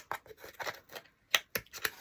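Scissors snip through cardboard while a butterfly shape is trimmed, a series of short crisp cuts in irregular rhythm, close and fairly quiet, with brief pauses between the sharper snips.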